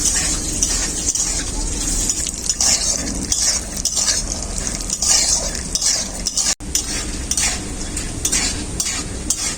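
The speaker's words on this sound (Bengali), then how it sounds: "এখন আমি বাদামগুলো ভেজে নেব" Peanuts frying in hot oil in a wok, a steady bright sizzle with frequent scraping and clinking of a spatula against the metal, close and continuous.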